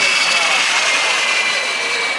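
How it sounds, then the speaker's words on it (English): A jet dryer car at the Daytona racetrack gives off a loud, steady jet-engine roar and hiss that holds constant throughout the short stretch. "Here comes one more jet dryer car."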